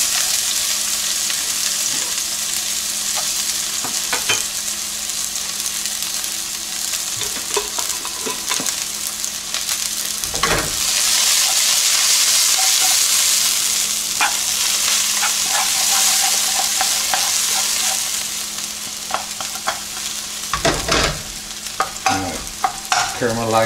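White onions fry in grapeseed oil for beef and broccoli, a loud close sizzle with repeated scraping stirs that swells louder through the middle and carries on unbroken.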